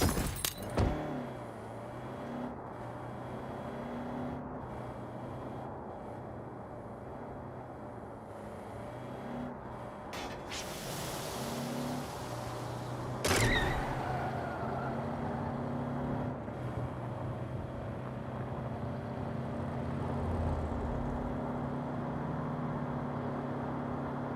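A car is driven in the video game Saints Row. A steady engine hum runs throughout, broken by a sharp crash-like bang about halfway through, with no talking.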